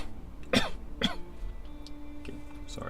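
An adult gives two sharp coughs about half a second apart, close and fairly loud, with a fainter third cough following, over a steady low background hum.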